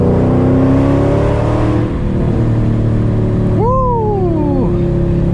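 A Mercedes E55 AMG with a bigger throttle body and long-tube exhaust drones loudly from the driver's seat, then revs up sharply and falls away through a downshift, with no talking.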